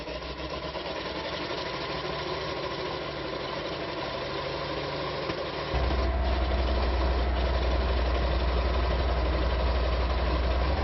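An M18 Hellcat tank destroyer's engine runs with a deep, rough idle. Midway it jumps to a louder, heavier low rumble that holds steady at close range.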